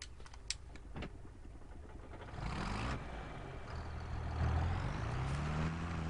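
A tractor engine in Farming Simulator 25 idles and then revs up, a low steady rumble that rises in pitch and loudness midway, preceded by a few sharp clicks, with no talk over it.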